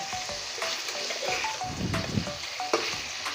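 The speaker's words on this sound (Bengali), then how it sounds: "এইভাবে চিকেনগুলো ভেজে নিলে একটুও রান্না করার সময় ভাঙবে না" Chicken pieces frying in oil in a wok-style pan, a continuous loud crackling sizzle heard up close with occasional stirring clatter, no voices.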